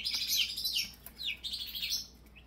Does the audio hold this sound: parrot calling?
yes